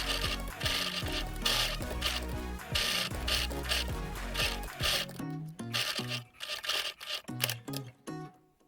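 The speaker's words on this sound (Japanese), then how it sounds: "それではこちらの中央のところ1センチの縫い代を取って縫っていきます。" A sewing machine stitches the center seam of a homemade summer mask cut from cooling towel fabric. It runs in a steady mechanical whir for several seconds, then stops and starts in short bursts.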